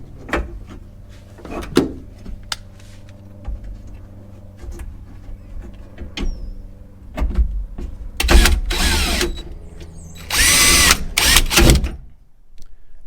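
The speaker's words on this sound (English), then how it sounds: "we can replace the T30 screws" A power drill driving T30 screws while a rack is fitted to a Toyota Tundra bed, with several short bursts of whirring and clicks, the loudest and longest near the end, alone without talk.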